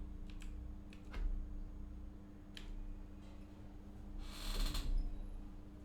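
Computer keyboard keys tapped in a few scattered clicks, then a denser quick burst of typing near the end, close and fairly quiet over a steady low electrical hum.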